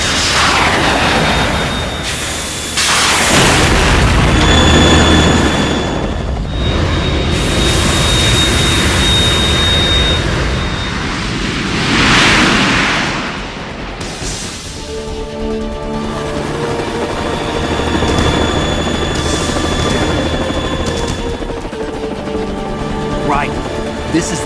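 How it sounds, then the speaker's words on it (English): A Harrier jet in the video game Metal Gear Solid 2 roars loudly and continuously, a sustained engine drone with shifting whine and turbulence throughout, mixed with game effects and music. "You have to shoot the Harrier down."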